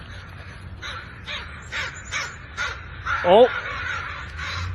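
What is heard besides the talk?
crows cawing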